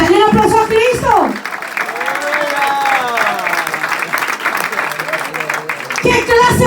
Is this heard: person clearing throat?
no